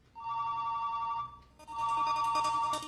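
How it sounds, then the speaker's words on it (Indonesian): A phone ringtone rings twice in two short electronic bursts with a brief pause between, clear and fairly quiet, with no talking. "Tiba-tiba HP-nya berdering 2 kali."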